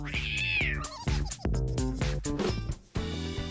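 A cat meows with a drawn-out, wavering cry at the start, followed by shorter mews over a background of music.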